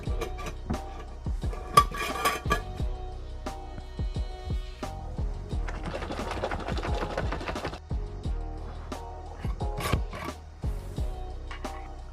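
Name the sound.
mixing keto ice cream ingredients in a bowl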